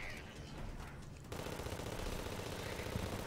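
Rapid automatic weapon fire in the video game Terraria, a dense stream of quick shots that thickens and gets louder partway through, continuous and without speech.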